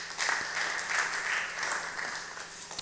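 A congregation applauds at a church prayer gathering, a steady round of clapping at moderate distance that holds evenly for a few seconds without voices over it.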